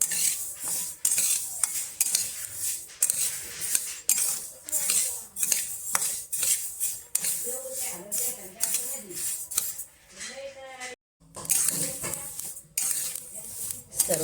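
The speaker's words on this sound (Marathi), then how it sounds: "सर्व राई आता चांगली भाजून झालेली आहे. छान अशी तडतडत आहे." Mustard seeds dry-roasting over a low flame in a kadhai for traditional Agri masala, giving a steady, close crackle with scraping stirs that runs almost throughout, broken by a brief pause near the end.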